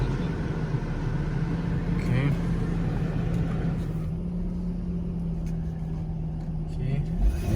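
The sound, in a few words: 1998 Lexus SC400 engine running smoothly after cold start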